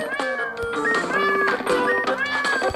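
A cartoon cat in the video game Crashy Cats meows repeatedly, bright and close, several high drawn-out mews following one another in an uneven rhythm.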